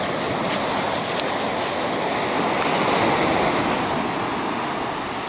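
Sea surf washes steadily onto an empty October beach at Adler in Sochi, a loud, continuous broadband rush with gentle swells and no talking.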